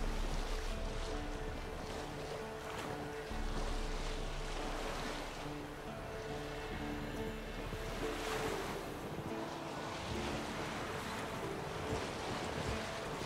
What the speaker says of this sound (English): Sail's fluttering.